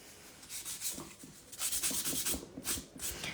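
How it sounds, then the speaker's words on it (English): A hand polisher working across a surface up close, a quiet, irregular rubbing and brushing in short repeated strokes, with no voices. "Now polisher."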